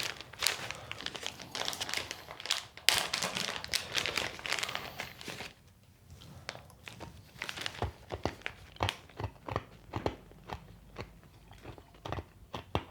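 Freeze-dried Skittles bitten and crunched close up, brittle crisp snaps with bag crinkling at first, then quieter chewing crunches in a steady uneven rhythm.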